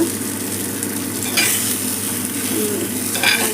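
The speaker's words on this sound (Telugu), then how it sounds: "ఈ పీస్ అయితే ఇంకా ఇంకా చాలా బాగా ఫ్రై అయింది పీస్" Fish pieces fry in a shallow film of oil in a pan, a steady close sizzle with a soft stir or scrape partway through and crackling bursts near the end.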